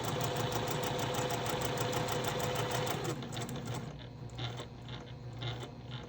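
A home sewing machine stitches a small charm-pack quilting project, with a steady rapid mechanical whirr and rhythmic needle clatter at close range that slows into softer, separated stitching sounds toward the end.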